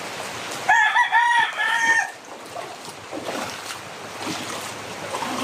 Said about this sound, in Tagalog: Balhin nato ni mga manok.